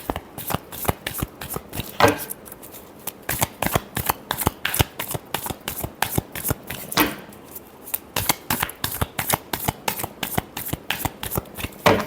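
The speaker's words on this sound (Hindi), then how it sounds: "Last shuffle." Tarot cards being shuffled by hand, close and crisp, in a steady run of rapid riffling flicks that continue almost without pause.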